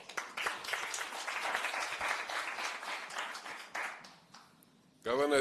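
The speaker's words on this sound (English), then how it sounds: "Another applause for the governor." Crowd applause for the governor at the launch of a national beauty pageant, a sustained wash of clapping that fades away before a loud voice cuts in at the end.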